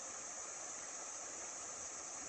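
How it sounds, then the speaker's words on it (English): Water of a creek flowing beneath a railroad bridge on a bike trail, heard from about 25 to 30 feet above; a faint, steady, even rush with no voices. "So just listen to the water there."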